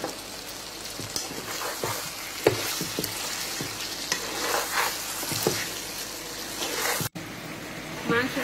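Chicken pieces and potatoes frying in a pot for chicken biryani, a continuous close sizzle broken by repeated scraping stirs and clinks of a spoon against the metal, ending in a brief cut.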